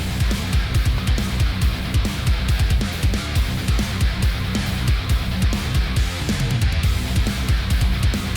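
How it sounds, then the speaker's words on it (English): Parsley is chopped rapidly with a Dalstrong Shogun Series X knife made of Japanese super steel on a cutting board, a dense, continuous run of close, loud thuds and taps. "Now here's what it sounds like to cut parsley with Shogun Series X."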